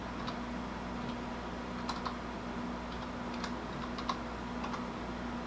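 A computer keyboard is typed on in a steady run of soft clicky keystrokes at close range, with a low hum running underneath and no talking.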